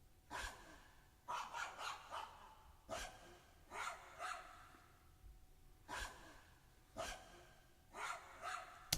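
A powerful dog barks in a phone recording, with about seven separate bark bursts, some doubled, spread across the clip at an irregular pace. The barks are moderately close, mixed with breathy snorts, and nobody speaks.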